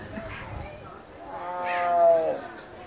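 A tiger gives a drawn-out, rising and falling meow-like call, fairly close and loud, with people talking softly around it.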